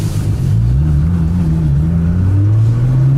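A 1,000 horsepower Nissan GT-R running on pump fuel accelerates along a road, its engine a loud, steady drone whose pitch climbs through gears, heard close from inside the car with no talking.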